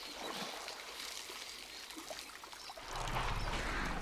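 Elephants, a mother and an aunt, wade through deep water in India and drink by raising their trunks above the surface; a steady rush of splashing, trickling water runs throughout and swells into a fuller, louder churn near the end.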